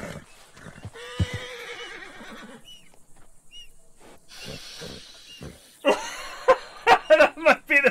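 A horse in a video game lets out a long whinny, followed by further neighs and snorts, then a run of sharp loud bursts near the end.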